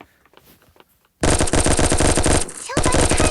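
FAMAS rifle firing in the Cops N Robbers video game, a loud rapid burst of automatic shots after a quiet start, with a short pause before the firing resumes.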